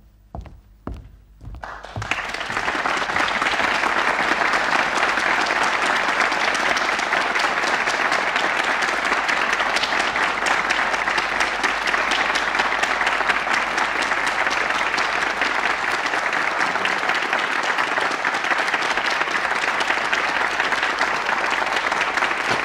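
Theatre audience applause for a televised 2003 stage play, a few opening claps swelling into loud, sustained, even clapping from a large crowd that continues steadily for over twenty seconds.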